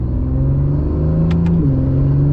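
A powerful Acura NSX supercar engine hums and builds steadily on a canyon road, a continuous deep drone with a shift in pitch partway through, close and loud.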